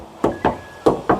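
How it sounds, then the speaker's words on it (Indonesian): Four sharp knocks on the metal side body panel of a Honda Brio E Matic city car, struck in two close pairs, each hit loud and hollow with a brief ring. "Sekarang aku mau ketok dulu."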